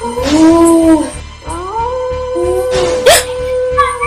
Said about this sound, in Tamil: ஊருக்குள்ள நாய்ங்கெல்லாம் ஊழையிடும்